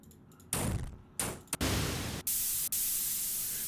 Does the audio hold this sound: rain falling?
no